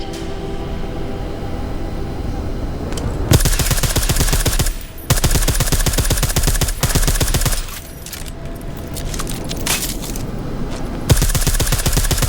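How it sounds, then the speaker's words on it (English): Silenced automatic gunfire in Deus Ex: Mankind Divided chatters in long rapid bursts, loud and close, broken by brief pauses between strings of shots. "Silencers reduce sound, but the trade-off is less stopping power, less damage per hit."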